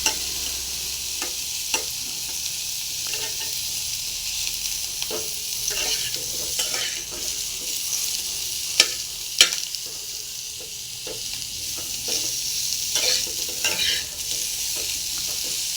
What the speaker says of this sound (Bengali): এঁচোড়গুলো মোটামুটি ভাজা হয়ে গেছে